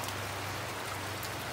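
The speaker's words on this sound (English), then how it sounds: "it's raining in Pennsylvania again" Rain falling outdoors in Pennsylvania during backyard work on a turtle habitat, a steady, even hiss of drops at moderate loudness with no voices.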